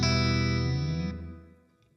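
A clean guitar chord through a Blackstar St. James 50W EL34 tube amp with an extreme reverb setting, ringing out and washing into a long fading tail that sounds faintly modulated.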